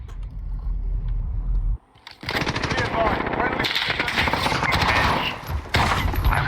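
Rapid bursts of automatic gunfire and shotgun blasts in an online first-person shooter match, loud and dense, with a brief gap before a sustained barrage of overlapping shots.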